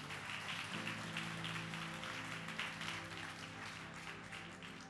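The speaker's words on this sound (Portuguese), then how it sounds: "Vamos aplaudir Jesus." A church congregation applauds during a service, a soft broadband patter of clapping blended under sustained musical tones from instruments, quiet and continuous throughout.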